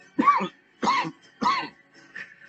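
Three harsh coughs in a row after smoking strong weed, close and fairly loud, followed by a softer, raspy throat-clearing.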